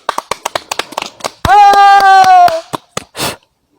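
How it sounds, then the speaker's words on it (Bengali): Children clap their hands in a quick burst of sharp, uneven claps, followed by a sustained sung or shouted tone and a few more scattered claps. "ভাই বাচ্চারা একটা হাততালি দাও"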